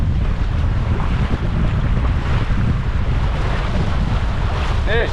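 Sailboat out on the Tasman Sea in white-capped, blustery conditions, with loud constant wind buffeting the microphone over rushing water and waves against the hull.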